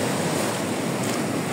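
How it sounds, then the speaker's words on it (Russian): Steady broadband rushing of cold, piercing wind by the sea mixed with surf noise, loud and unbroken throughout, with no voices. "здесь тоже прямо такой пронизывающий холодный ветер."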